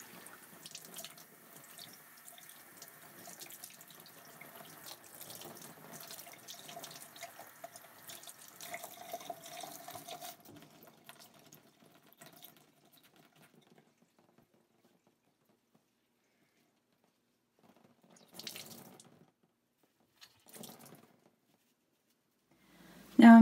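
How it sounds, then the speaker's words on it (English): Cold tap water runs steadily into a sink for about ten seconds to soak a sponge for a Masterson Sta-Wet acrylic painting palette, then stops, followed by a few faint drips and small splashes. "Now I'm going to fully saturate it with cold water and then wring out about half of the water."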